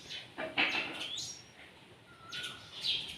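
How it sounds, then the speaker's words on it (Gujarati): Sparrows chirp in short bright bursts while playing and feeding in a freshly washed home courtyard, the calls fairly faint and scattered with quiet gaps between them. "આમ જો ચકલાઓ જો કેવી મસ્તી કરી રહ્યા છે આમ જો"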